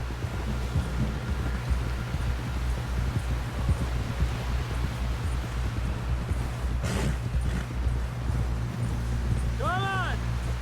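Horse hooves clip-clopping in Red Dead Redemption 2, a steady rhythmic trot buried under a dense, loud mix of game ambience and music, with a voice shouting briefly near the end.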